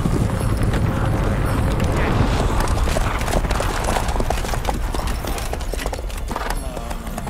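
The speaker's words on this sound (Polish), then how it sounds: "Nilfgaardzki koń bojowy." Hooves of a Nilfgaardian war horse clip-clop steadily in The Witcher 3, a dense run of close, loud hoofbeats over a busy rumbling game background.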